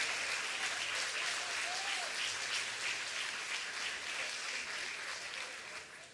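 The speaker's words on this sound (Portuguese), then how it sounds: "Pode aplaudir o Senhor." A church congregation applauds in a steady, dense wash of clapping that fills the room, heard from within the crowd and tapering slightly toward the end.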